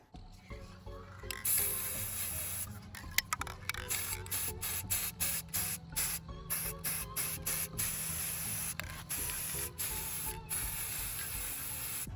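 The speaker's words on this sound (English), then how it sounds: "I took him out and I spray painted him with gold" An aerosol can of gold metallic spray paint, sprayed onto a skeleton decoration, hisses in a long burst, then sprays in many short, evenly spaced bursts with brief gaps, close by and steady.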